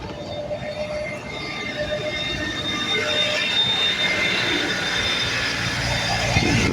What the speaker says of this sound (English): I can hear a high-pitched whine.